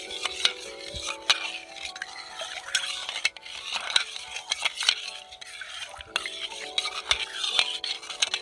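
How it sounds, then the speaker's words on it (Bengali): A spoon stirs sugar and a cracked cardamom pod into milk in a pot, giving repeated scraping and clinking strokes against the metal that run steadily and close throughout. "ভালো করে দুধের সাথে আমি চিনিটা মিশিয়ে নিয়েছি"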